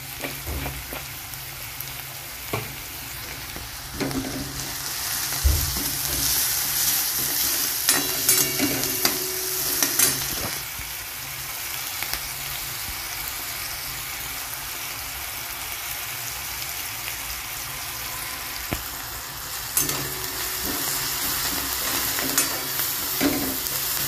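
Chopped onion with salt sautéing in a pan for a Maharashtrian chickpea usal, a steady soft sizzle with occasional scrapes and stirring clatters, close and fairly quiet, no voices.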